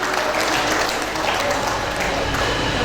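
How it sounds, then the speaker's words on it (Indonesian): A church congregation at a Christmas service claps for Jesus, a steady, dense wash of applause from many hands that fills the room for several seconds. "Karena itu tepuk tangan buat Yesus yang baik."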